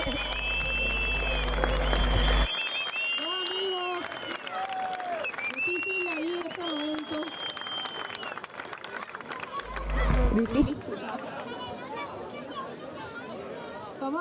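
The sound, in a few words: audience applause for the two Brazilian third-place finishers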